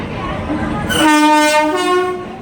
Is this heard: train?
yes